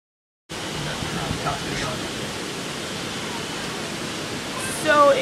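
A flooded river rushes through a town center during Hurricane Irene in Millburn, New Jersey, a broad, steady roar of churning water that runs unbroken and close, with a brief burst near the end.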